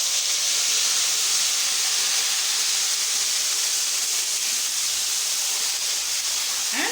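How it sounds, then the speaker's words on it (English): Tomato paste poured slowly into hot oil with spluttering mustard seeds for a tomato pickle sends up a loud, steady hiss that holds unbroken throughout, with no voices. "When the mustard seeds starts spluttering, add the tomato paste slowly."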